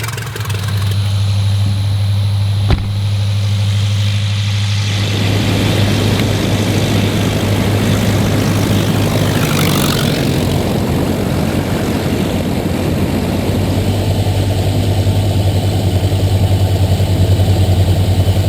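A restored vintage Curtiss Robin airplane's engine and propeller run close by, a loud steady droning hum with a strong low tone that swells fuller partway through, alongside a single sharp click early on.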